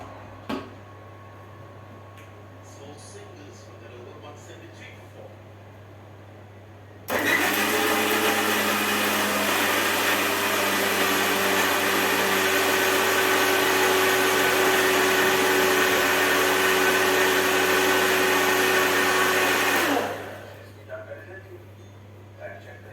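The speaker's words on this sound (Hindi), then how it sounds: "अब हम इसको मिक्सी में पीस लेते हैं।" A kitchen mixer grinder grinding an aloe vera mixture whirs loudly and steadily for about thirteen seconds, a harsh motor drone that starts abruptly and winds down at the end.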